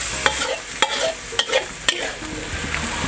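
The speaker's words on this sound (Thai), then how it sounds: "คนให้ใบกะเพรามันสลบให้หมดนี่เอาข้างล่างขึ้นมาทับใบกะเพราข้างบน" A spatula scrapes and stirs chicken and holy basil in a hot pan over a steady loud sizzle, with several sharp clacks of utensil on metal.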